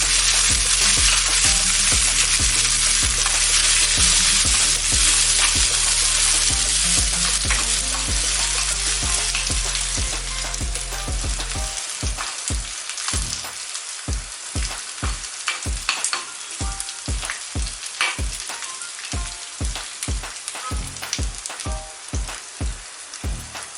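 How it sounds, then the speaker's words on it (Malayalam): Chopped shallots and dried red chillies fry in hot oil with a loud, dense sizzle that eases after about twelve seconds into a steady crackle with frequent sharp pops and spatters, close up, no voices. "പിന്നെ ഈ ചെറിയ ഉള്ളി അരിഞ്ഞത് കൂടെ ചേർത്ത്"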